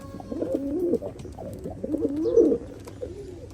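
Pigeons at a pigeon farm, Gorra breed, coo in repeated, overlapping rolling phrases, close and fairly loud, with no one speaking.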